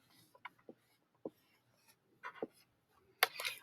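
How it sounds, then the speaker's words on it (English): Marker strokes squeaking and scratching on a small board while an answer is written, a handful of short, separate scribbles with brief pauses between them, close and quiet. "I'm going to write my answer on my board."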